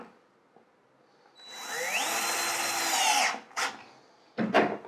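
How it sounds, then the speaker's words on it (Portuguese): A power driver spins a screw into a faceted metal profile during assembly, rising in pitch in one sustained whir for about two seconds, then two short bursts as it stops and restarts, no speech. "Introduzo o parafuso."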